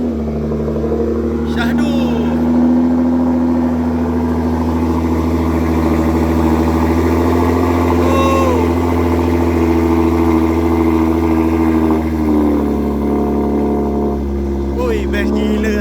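A modified-exhaust 2019 Nissan GT-R R35 Black Edition idles with a deep, steady rumble throughout, close and loud, with voices talking over it.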